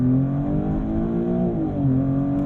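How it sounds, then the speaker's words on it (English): Maserati GranTurismo Trofeo accelerating hard from a launch-control start, a loud, close engine roar with pitch climbing steadily, briefly dipping at a gear change, then climbing again, heard from inside the car. "Hold your foot on the brake, pin the throttle, let go with the brake."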